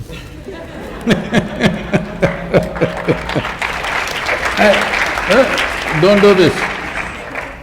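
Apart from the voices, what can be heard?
audience clapping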